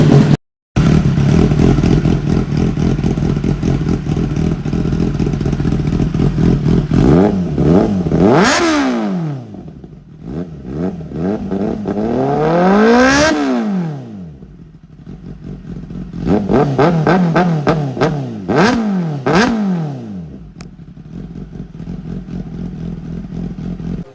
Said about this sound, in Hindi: इसमें एग्जॉस्ट लगा हुआ है एक्रोपॉविक का, उसका भी साउंड सुना देता हूँ मैं।